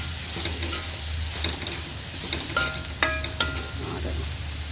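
Tomatoes sautéing in a pan for chicken thoran give a steady soft sizzle, with a few sharp scrapes and clinks of a spoon stirring at a moderate distance.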